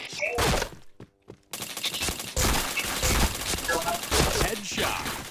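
Video game gunfire in rapid bursts, dense cracking shots that pause briefly then resume loudly and continuously, close and punchy.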